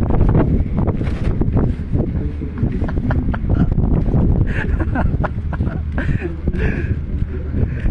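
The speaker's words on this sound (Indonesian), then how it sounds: "ini angin lumayan ya" Strong wind buffets the microphone outside Si Jalak Harupat stadium on a Persib Bandung versus Persija Jakarta match day, a steady loud roar with rustling gusts throughout, while people talk nearby.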